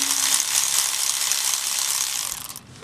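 Ratchet clicking in a fast, steady run while tightening valve cover bolts on a 1998 Toyota Corolla, close and loud, with no talk, fading near the end.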